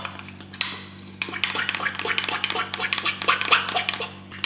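A spoon stirring whey paste into cream of rice, making a run of quick scraping clinks against the bowl over a low steady background hum.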